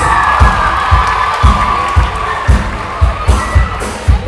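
A loud audience cheers and shouts continuously as a performer is introduced at an opening act, over a steady pulsing bass beat, the crowd noise dense and close.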